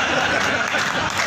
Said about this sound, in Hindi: जोरदार तालियां आपको दे।